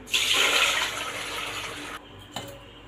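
Water from soaked lentils is poured off and fresh water runs in for rinsing, a steady close rush of splashing liquid for about two seconds, then it cuts off, followed by a brief small splash.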